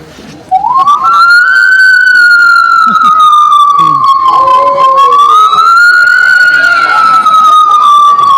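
A stage singer's voice imitates a fire engine siren, one loud continuous wailing tone that rises, holds, dips and swells again, sung alone and close.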